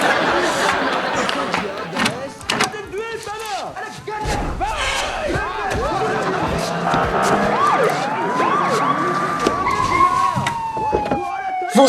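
A police car siren arrives as a rising, wailing tone late in the clip, under loud overlapping chatter, voices and a door slam.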